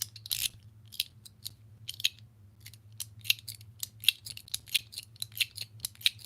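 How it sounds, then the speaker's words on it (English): A zipper clock plate fidget slider with a PEI plate, run up and down, giving a steady series of crisp, close clicking ticks that speed up toward the end over a low background hum. "So it's got those right there, so you can run it up and down like that."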